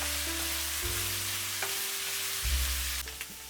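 A stir-fry with salt and light soy sauce sizzles steadily in the pan, a constant frying hiss under a low hum, with a few brief stirring clicks.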